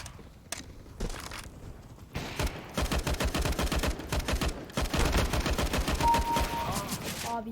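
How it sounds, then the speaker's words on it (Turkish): Rapid automatic gunfire in CS GO, bursts of sharp, close shots building into sustained rattling sprays, loud and dense in the latter half with a few isolated shots at the start. "Çok mermi sıktım o adama"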